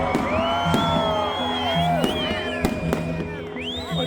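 A large crowd claps and cheers loudly at a bonfire festival in Cachoeira de Minas. Whoops and shouts run throughout, with sharp applause cracks over a steady roar of voices.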